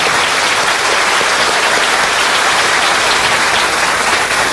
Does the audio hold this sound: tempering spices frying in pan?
no